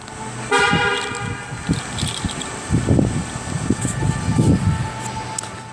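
A short car horn toot sounds as a car is locked, a loud tonal burst near the start, followed by footsteps and rustling outdoors close by.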